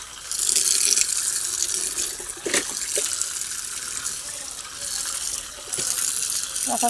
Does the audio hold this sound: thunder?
no